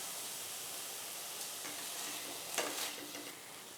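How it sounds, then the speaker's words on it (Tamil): Paneer sautéing on a nonstick tawa gives a steady soft sizzle and hiss throughout, with a brief stir of the pieces near the end. "இது பன்னீர் கொஞ்சம் நேரம் அப்படியே நீங்கள் நான்ஸ்டிக் தவாவில் வச்சிங்கன்னா அது உங்களுக்கு கொஞ்சம் சாட்டே ஆகிடும்"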